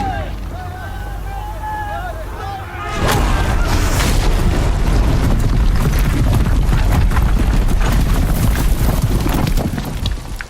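Heavy guns boom in a Horizon Zero Dawn battle. A quieter stretch with voices gives way to a sudden loud blast, followed by sustained roaring fire and rumbling impacts.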